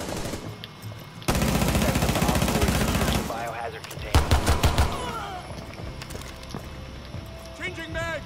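Automatic gunfire rattles in a Rainbow Six Siege match, a loud sustained burst followed by a few sharper shots, with game voices and effects around it.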